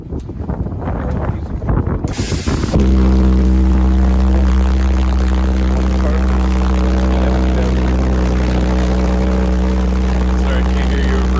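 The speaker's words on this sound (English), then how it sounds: "It's the Pulse engine." In the video game Starbase, a ship's pulse engine kicks in abruptly and holds a loud, steady droning hum, with a person talking just before it starts.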